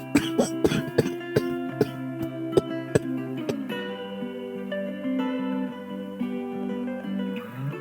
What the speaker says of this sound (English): I'm so sorry, I triggered a coughing fit.